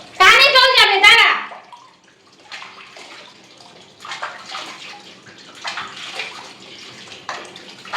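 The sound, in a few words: water rinsing shampoo off a dog during its bath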